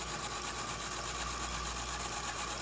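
Steady mechanical whir of a liquid pump driving a cross-flow membrane filtration unit, a constant hum with fine rapid ticking, even and unbroken throughout, fairly quiet and with no talk.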